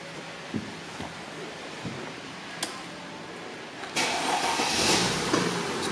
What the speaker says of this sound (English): I'm going to start the car for you.